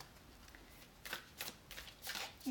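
Tarot cards shuffled back into the deck during a reading, a few soft riffling bursts of card stock rising and falling, close and quiet with no talking.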